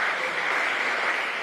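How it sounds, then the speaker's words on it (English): An audience claps for an honoured guest at an executive director's opening address, a brief, even wash of many hands clapping at once without any voices. "Let's clap for Mr. Falcon."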